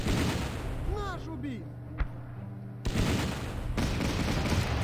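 Mortar fire in the wartime strategy game Battle Academy 2, with a single sharp muffled impact followed by a heavier burst of rumbling noise, all low and dull under a constant game background.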